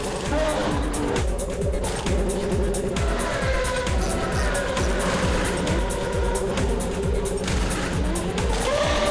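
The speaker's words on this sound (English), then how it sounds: "It's frantic down in pit lane. All the teams sending their cars back out again." Race cars from a racing video game rush through a busy pit lane, a loud, continuous engine drone layered with repeated tire squeals and skids, with a voice talking underneath throughout.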